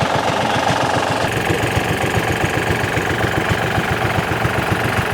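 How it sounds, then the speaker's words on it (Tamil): Three water pump engines at a Sri Lankan gem mining pit run steadily together, a loud continuous rumble with rapid rhythmic knocking, close by and without pause. "மூணு இன்ஜின் கிட்டத்தட்ட வச்சு தண்ணி இறக்கிறாங்க"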